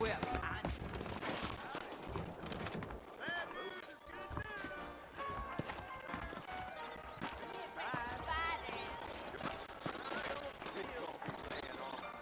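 Saddled horses in the Red Dead Redemption video game, set in New Austin, clip-clop steadily on the ground in a continuous walking rhythm, with an occasional whinny, while characters talk over the hoofbeats.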